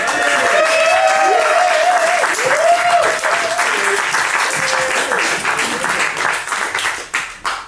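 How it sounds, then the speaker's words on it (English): A live audience at a short film panel for "Teardrops from a Clown" applauds after a screening; loud, sustained clapping with cheers and voices mixed in, thinning toward the end. "What a round of applause."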